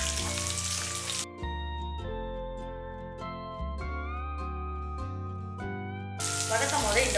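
Small onions and garlic sizzle in hot oil for a South Indian fish curry, a steady frying hiss heard at the start and again at the end, with music in between.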